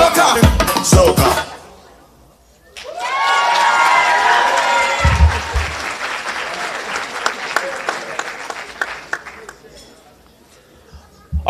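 Audience applause and cheering from a crowd at a high school International Day show, rising after a burst of music and holding as a dense, loud wash of clapping with whoops before tapering off.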